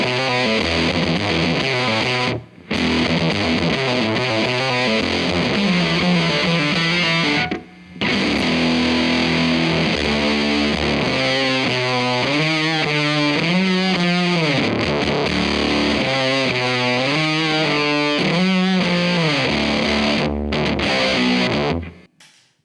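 Heavily distorted electric guitar in a metal tone through an effects pedal, dense sustained chords and riffs played loud and continuous with two brief pauses, no voices.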